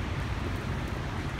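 Steady rain falling outdoors, a continuous even hiss with a low rumbling undertone, heard alone without talk.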